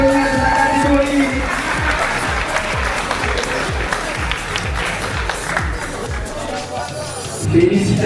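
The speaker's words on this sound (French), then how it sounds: "On les applaudit encore une fois d'abord." Audience at a street lifting competition in Annecy applauding a competitor: sustained, loud rhythmic clapping from a crowd, with a voice speaking over it.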